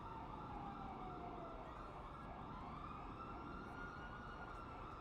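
Police sirens wail continuously near the player in a GTA roleplay game, a steady wavering tone layered over dense traffic and city rumble throughout.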